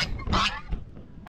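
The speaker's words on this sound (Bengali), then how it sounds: "আর এই যে রাজহাঁস।" Domestic geese honk in a cyclone-hit Sundarbans village, where flooded farmland lies nearby: a burst of loud, close, nasal calls peaks early, then fainter squawks follow before a sudden stop.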